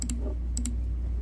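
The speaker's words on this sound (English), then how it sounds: "I'll draw this line by clicking this button and just left-clicking points all" Computer mouse left-clicking while tracing a gingiva line on a denture scan in 3Shape dental design software: two quick pairs of crisp, close clicks, one pair near the start and another about half a second later, over a low steady hum.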